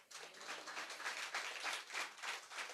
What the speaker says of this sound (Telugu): విశ్వసించిన వాళ్ళు గట్టిగా చప్పట్లు కొట్టండి